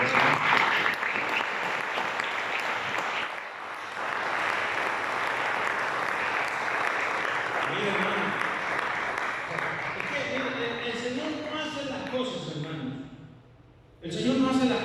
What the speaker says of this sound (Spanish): Les voy a rendir palmas